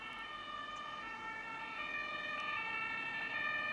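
A fire truck siren on a road at night holds a steady, sustained tone throughout, fairly loud with traffic rumble beneath.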